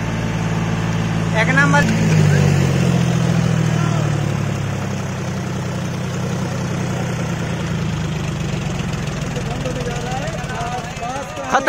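A John Deere 5045D 4x4 tractor engine runs steadily at 2100 RPM with a constant, loud mechanical drone throughout, while people talk nearby over the noise.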